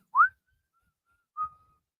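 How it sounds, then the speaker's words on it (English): Whistling from a song built from many layered, pitch-tuned whistle tracks: a quick rising whistled chirp, then after a pause a second, steadier held note that fades out, both clear and alone. "the whistling in that song, that's 14 layers of whistling with all sorts of pitch tuning"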